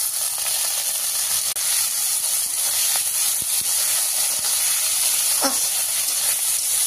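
Spices frying in a pan of oil with onion for an Assamese home-cooked dish: a loud, continuous close-up sizzle with steady hiss throughout and a few faint clinks, no talking.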